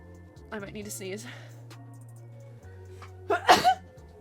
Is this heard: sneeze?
yes